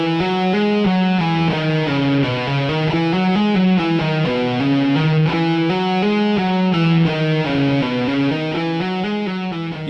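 Distorted electric guitar plays a steady legato triplet sequence, fast hammer-ons and pull-offs across strings with one pick stroke per string, loud and continuous with no voice over it.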